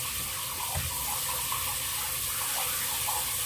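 Tap water runs steadily into a sink to wash excess flour off hand-rolled dough balls for a Thai coconut milk dessert. The flow is continuous and close, with slight splashing changes.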